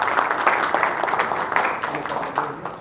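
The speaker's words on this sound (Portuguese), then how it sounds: "Esse é um salve de palmas, meu amigo Marcelo Augusto." Applause from an audience at an accountants' event in Brazil, broadband clapping lasting the whole clip at steady moderate loudness, with some voices mixed in.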